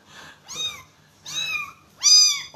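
A newly adopted kitten gives three separate meows, each a little louder than the last, with the final cry the strongest and the brightest. The calls are close and clear, with quiet pauses between them.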